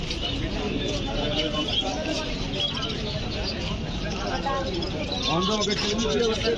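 Pigeons of many breeds at a crowded pigeon market at Mawna old bazaar, soft cooing and fluttering under constant crowd chatter and nearby voices.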